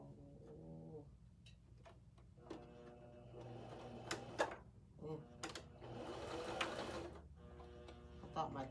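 Home sewing machine stitching fabric down in short bursts of rapid mechanical whirring, separated by brief pauses, with someone talking in between.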